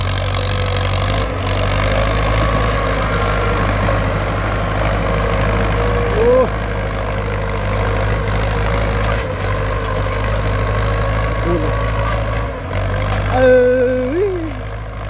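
A Ford 6600 tractor with a single-axle plow runs steadily through hard soil, its low diesel drone continuous and close throughout, with faint tonal whines near the end.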